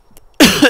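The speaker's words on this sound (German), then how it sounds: "Entschuldigung, boah, ein bisschen Husten gehabt." A single loud, close cough from a man, a sharp harsh burst after near silence.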